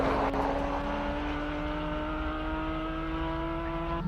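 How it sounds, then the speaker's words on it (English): A Porsche 997 GT3 Cup race car at the Simola Hillclimb holds a loud, steady high-revving engine note that stays close and continuous for the whole stretch, with no talk over it. "Wow, that Porsche sounds incredible."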